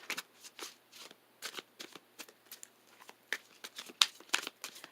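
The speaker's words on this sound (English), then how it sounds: "Two more shuffles." Tarot cards are riffled and shuffled in quick repeated bursts, close and crisp, with short pauses between each shuffle.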